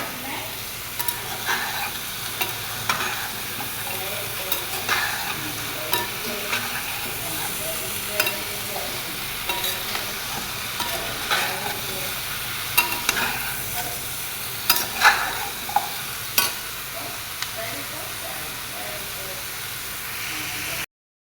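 Green beans tossed into a hot pan fry with a steady sizzle while a spatula scrapes and stirs at regular intervals, with sharper clicks of utensil on metal near the end.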